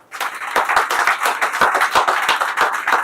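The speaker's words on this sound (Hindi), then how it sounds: "अगर ऐसा है तो एक बार तालियां बजा दीजिए।" An audience at a presentation claps together in a dense, sustained round of applause for about three seconds, loud and close, with no speech.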